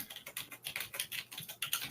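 Fast, continuous typing on a computer keyboard, with close, crisp key clicks running in quick uneven bursts and no voices.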